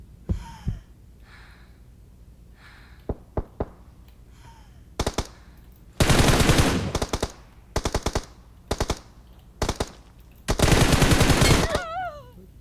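Gunfire in a shooting video game, with single sharp shots and several loud rapid bursts, mixed with game sound effects and brief breaths.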